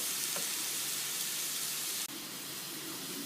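Sliced onions frying in a pan for a Kerala-style prawn roast, a steady close sizzle with a brief stirring scrape near the start and a sharp drop in level partway through as the hiss continues.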